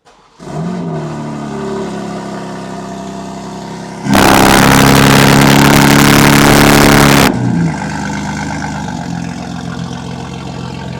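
A BMW M5 F90 twin-turbo V8 barks into a loud cold-start flare, roaring high for about three seconds before settling into a steady, elevated idle, all close by with no talking.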